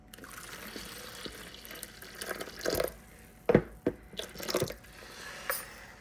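Very hot red cabbage dye liquid poured into a bowl, heard as a few close splashing, trickling bursts with soft drips between, no talking.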